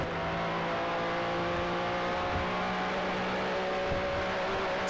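Williams FW11B turbo Formula One car in Assetto Corsa, a steady loud engine drone with sustained harmonic whine running throughout, slight shifts in pitch as it moves through the gears, no voices.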